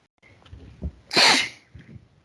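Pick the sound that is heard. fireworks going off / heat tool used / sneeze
sneeze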